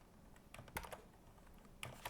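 Computer keyboard keys are tapped in a quick, faint, irregular cluster of clicks, with a brief pause between bursts, heard alone and close up.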